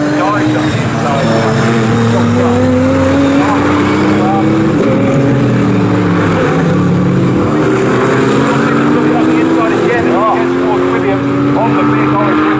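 A GT3 Lamborghini Huracan race car at a Snetterton GT Cup race: a sustained engine note that rises and falls through gear changes, with other cars audible and a commentator talking over it throughout.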